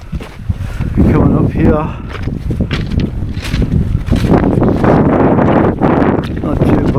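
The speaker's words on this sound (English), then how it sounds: "I'm getting buffeted by the wind a bit more" Gusty wind buffets the microphone outdoors on an exposed hillside ascent, a loud continuous rumble that swells and surges throughout while someone speaks over it.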